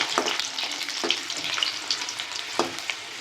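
Garlic fries in hot oil with a steady sizzle, popping and sputtering now and then, while a utensil stirs and scrapes a few times.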